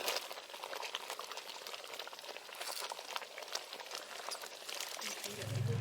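Rice payasam made from hand-pounded native raw rice, with cashews, raisins and coconut pieces, boils in a pot, giving a continuous dense bubbling hiss at moderate level throughout.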